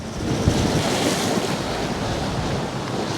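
Storm Bert batters Poole Harbour with gusting wind and choppy waves, a constant loud roar of rushing air and broken water buffeting the microphone, without any speech over it.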